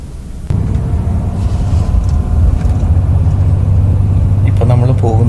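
A bus rolls through morning traffic toward a ferry port, carrying passengers from Belfast toward Glasgow. From inside, a steady low engine rumble and road noise fill the cabin, and voices come in briefly near the end.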